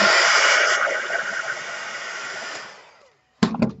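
Heat embossing tool blowing steadily to dry freshly stamped ink, a loud continuous airy whoosh for about three seconds that fades out, followed by a brief burst of handling noise.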